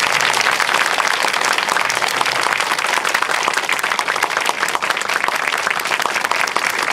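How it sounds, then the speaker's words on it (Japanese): Loud, dense applause from a film-screening talk-show audience honoring guitarist Marty Friedman and a director, many hands clapping continuously and close, sustained at an even level throughout. "もう一度盛大な拍手をお願いします。"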